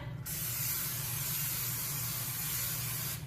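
A steady, close hiss of low-fat cooking spray onto a pan over medium heat runs for about three seconds against a faint low hum, starting and stopping abruptly.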